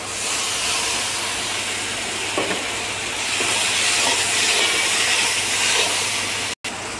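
Water goes into a pan of frying tomatoes and sets off a loud, steady hiss and sizzle that lasts throughout, with no talking.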